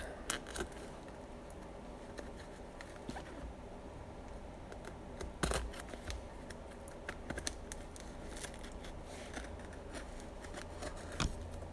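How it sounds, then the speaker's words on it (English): Cardboard package side flap peeled open by hand, a run of soft crinkly tearing and scratchy rustles close by, with a sharp rip around the middle and a few louder crackles near the end, no talk. "I think you peel this side flap."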